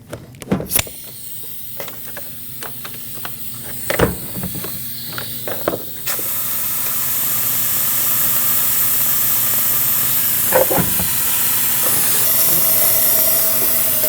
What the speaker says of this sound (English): I'm using a fluid extractor, and I'm going to do my best.